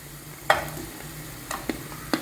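Large-cut onions hitting a hot pan, a soft sizzle broken by a few sharp clinks and scrapes of the spatula.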